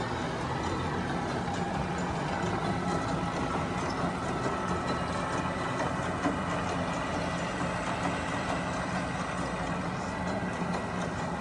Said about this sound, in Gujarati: જોન્ડિયરનું ટ્રેક્ટર છે.